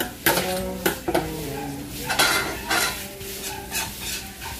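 Garlic sautés in a pan amid a dinner preparation, with a soft sizzle under repeated scraping and clinking as a utensil stirs against the metal in uneven strokes.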